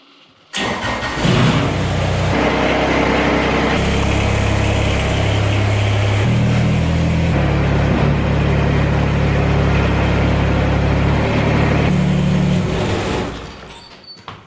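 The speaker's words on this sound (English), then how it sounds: "let's get the tractor running for a minute" A Kubota tractor's diesel engine cranks and catches, then settles into a steady, loud chugging idle with a few changes in pitch before cutting off near the end.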